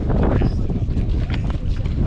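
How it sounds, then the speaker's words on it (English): Steady wind buffeting the microphone on Green Island, Australia, a low continuous rumble and roar with no pauses. "It's a little windy and chilly"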